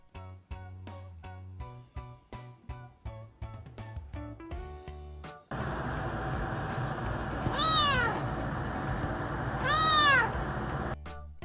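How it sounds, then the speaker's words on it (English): Cats meow in a regular series of short, close calls, followed by a louder continuous stretch with two rising, wavering cries, no human voices. "Each of their meow has a different meaning."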